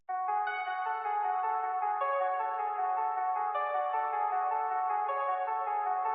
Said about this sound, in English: I came up with this really repetitive top line melody right here